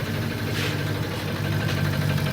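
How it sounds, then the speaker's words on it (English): A 2014 Jeep 6.4L engine with a damaged connecting rod runs steadily close by, giving a continuous low rumbling idle with a faint ticking texture, no talking. "But the vehicle does run. This is the way it's running right now."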